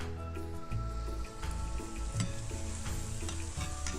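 Frozen minced meat fries in a pan while being stirred, a dense hiss and crackle with repeated scraping strokes, steady and close, without speech.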